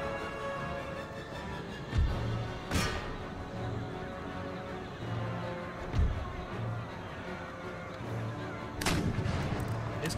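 Horse artillery fires during a battle in the game Empire Total War, with dull booming shots at irregular intervals over a constant rumbling battlefield din.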